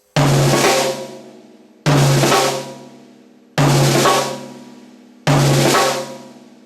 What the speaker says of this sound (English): Use the floor tom, it sounds like this.